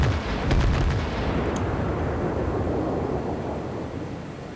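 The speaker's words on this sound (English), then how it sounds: "the Fuso has a very bad day as some of my 16-inch shells find him" Heavy 16-inch naval guns firing and shells striking a battleship in a naval combat video game: a loud, close booming blast that rolls into a long, slowly fading rumble.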